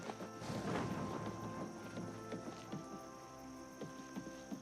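Horse hooves clip-clop at a steady walking rhythm in Oblivion Remastered, the open-world fantasy game, with soft repeated thuds sitting over a constant bed of ambient music and environmental sound.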